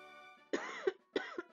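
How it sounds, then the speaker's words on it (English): Two distinct coughs, each a short double burst, close and clear against a quiet background with a faint tonal hum. "I don't know why I keep coughing"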